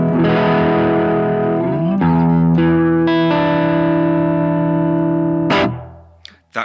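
Electric guitar on the neck pickup at medium gain through a BOSS GT-1000 with reverb, sustained chords ringing out loud and clear, changing every second or so before cutting off abruptly.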